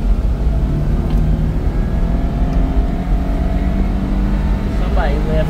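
Daihatsu Hijet Jumbo mini truck pulling away in second gear, a steady loud low engine drone with road and wind noise inside the cab, the pitch climbing gradually as it gains speed.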